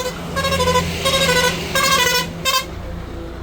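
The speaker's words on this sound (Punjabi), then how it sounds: "ਮਾਰ-ਮਾਰ ਹੌਰਨ ਇਹ ਚੀਕਾਂ ਕਢਾ ਦਿੰਦੇ" Several loud vehicle horns blare in overlapping bursts over a steady engine rumble, repeated honking from nearby traffic.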